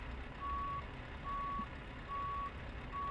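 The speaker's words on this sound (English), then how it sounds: "Why do we have a beep up, or backup beep?" Truck reversing alarm in Euro Truck Simulator 2, four evenly spaced steady electronic beeps over a low engine idle rumble, clear and moderately loud with no voices.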